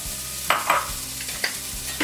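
Onions going into olive oil in a large pan give off a few stirring scrapes and brief bursts of sizzle against a steady low background, fairly close and moderately loud, with no voices.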